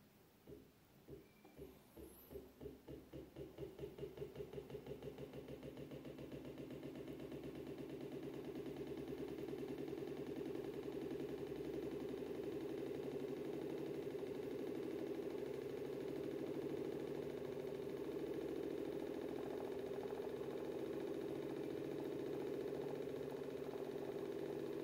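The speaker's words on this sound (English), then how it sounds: "Let me start the motor." A Newman motor spins up from a standstill under a load test, its hum rising over the first few seconds and then holding a steady, loud, even drone with a faint whine above it.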